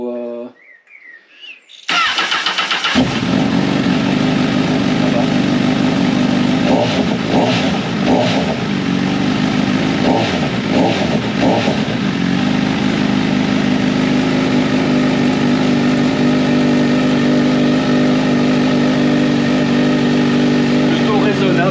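A Honda Hornet 1000 fitted with an Ixrace M8 exhaust fires up and settles into a loud, close idle, with a few blips of revving early on before holding a steady rumbling drone; a voice is briefly heard over the start.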